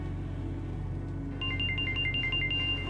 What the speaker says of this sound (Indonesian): Angkat tuh telepon tuh.